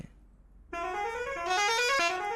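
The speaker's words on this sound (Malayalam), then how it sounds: "ഇതാണ് ഹോൺ" A cement-laden lorry's horn in Euro Truck Simulator 2, one sustained, bright, multi-tone blare that starts abruptly after a quiet moment and swells slightly before holding steady, loud and close with no talk.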